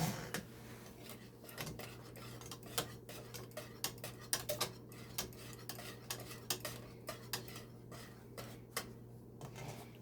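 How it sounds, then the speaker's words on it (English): A whisk scraping and clinking steadily inside a pot of Jamaican peanut and oats porridge, with repeated close metallic taps and stirring scrapes over a low steady hum. "let's keep whisking. Make sure it doesn't catch"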